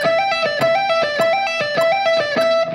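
Electric guitar shred lick looped continuously at a relatively slow pace, a steady stream of bright picked notes repeating the same pattern with a regular rhythm, played alone and clearly.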